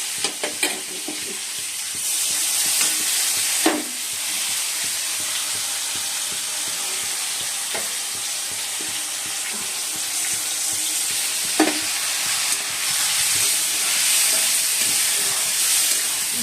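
Cumin, dry red chilli and bay leaf tempering in hot oil with salt and sugar, a strong steady hissing sizzle with occasional sharp spoon clacks against the pan, close and loud, no voices.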